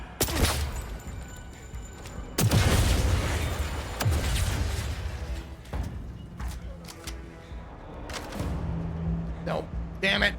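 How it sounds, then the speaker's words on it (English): A flash bomb goes off in the horror game Fears to Fathom, a sharp burst followed by rumbling blasts and scattered pops, with raised voices talking over the action. "Flash bomb going out!"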